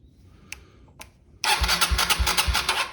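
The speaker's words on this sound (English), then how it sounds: "And we got some good starter action going on there" A Kawasaki KLX 140 dirt bike's electric starter cranks the engine with a loud, rhythmic whirring burst that begins abruptly after two faint clicks and continues steadily with pulsing strokes close by.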